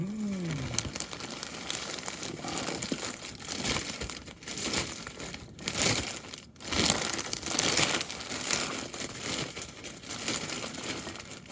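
A well-packed parcel is unwrapped with continuous crinkling and rustling of plastic packaging, with occasional louder crackles and handling noises, close by.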